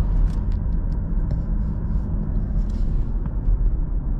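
A Peugeot car with a 3.0-litre N57 engine and winter tyres drives along the road after a major repair, giving a steady, loud low rumble of engine and road noise from inside the cabin.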